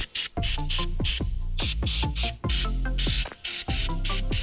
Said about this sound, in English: Spray the side of the holes and the roller.